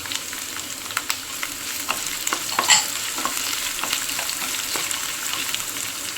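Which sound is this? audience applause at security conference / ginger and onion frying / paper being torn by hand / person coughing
ginger and onion frying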